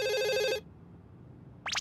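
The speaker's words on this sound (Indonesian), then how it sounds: "Telepon." A cartoon telephone rings in a Doraemon episode, a loud trilling burst that stops abruptly, then quiet room tone, with a brief high chirping blip near the end.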